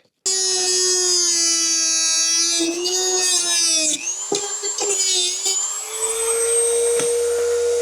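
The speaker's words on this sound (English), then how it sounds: "I'm gonna actually just try to just grind it off" Angle grinder grinding something off the roof of a winter cabin, a loud continuous high whine that dips and wavers in pitch as it bites, then settles back to a steady scream.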